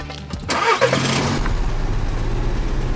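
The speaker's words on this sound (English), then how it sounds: "Peter, we are now in your car about to take a ride around the Abu Dhabi area." A car engine cranks and catches in Abu Dhabi, with a brief rough burst of starter noise before settling into a steady, low, close-up idle rumble that fills the rest of the moment.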